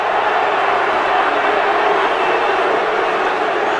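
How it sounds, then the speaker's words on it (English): A football crowd at a 1994 FA Cup third-round match between Sheffield United and Manchester United roars and shouts at the referee over an offside free kick, a loud, steady wall of massed voices. "The referee probably wonders what the crowd are all shouting at him."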